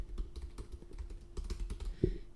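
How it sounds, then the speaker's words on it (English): Someone types an email address on a computer keyboard, producing a quick, quiet run of close key clicks with a slightly louder tap near the end. "So I'm going to go ahead and type in mine"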